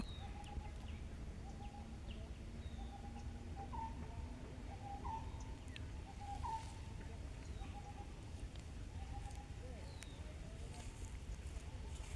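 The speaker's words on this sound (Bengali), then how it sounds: "গ্রামে কিন্তু বিভিন্ন প্রজাতির পাখির ডাক শোনা যায়" Birds call repeatedly in a quiet village setting, short whistled notes recurring at intervals over a low ambient hum.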